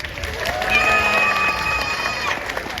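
A double yellow-headed Amazon parrot named Keto gives a short, bright cheering call that copies the sound of an audience applauding. It carries over a lively crowd at an outdoor bird show, and people can be heard clapping and shouting around it.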